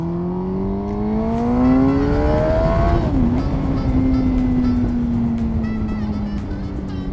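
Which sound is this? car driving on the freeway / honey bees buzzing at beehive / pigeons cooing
car driving on the freeway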